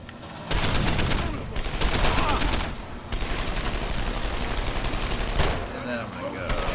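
Combat rifle fire in Deus Ex: Human Revolution crackles in loud, rapid bursts almost continuously, with short pauses between volleys and a voice occasionally talking underneath.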